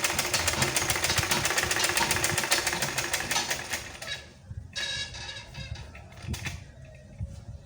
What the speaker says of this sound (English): Then I sew.